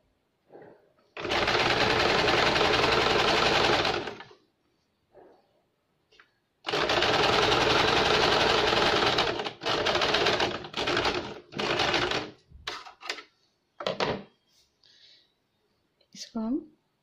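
Sewing machine stitching a tuck blouse: two long steady whirring runs, then several shorter bursts and a few brief clicks, close and loud, with soft talk in between.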